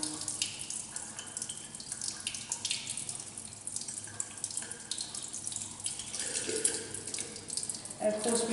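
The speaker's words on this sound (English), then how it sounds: "So by running water over it, I'm cooling it down again." Tap water running over a metal ball in a ball-and-ring expansion experiment, a steady close splashing stream with shifting spatter as the flow hits the metal, alone without talk.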